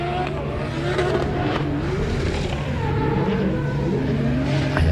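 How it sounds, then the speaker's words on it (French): A Nissan S14 race car driven by Michael Lahaye on track, its engine revving hard and continuously at close range, loud with rising and falling pitch. "Elle est énervée, la voiture de Michael Lahaye. Cette S14 Boss."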